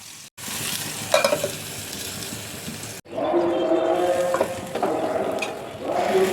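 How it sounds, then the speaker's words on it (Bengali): Eggplant slices fry in a pan, with a loud close sizzle and occasional scraping stirs, split by brief cuts near the start and midway. "এখন বেগুন ভাজা হয়ে গেছে।"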